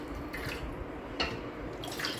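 Pure water is poured over a Shri Krishna idol during a puja, making a faint, soft trickle with a few scattered light drips.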